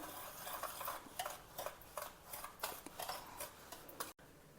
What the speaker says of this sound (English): Now mix these dry ingredients well together.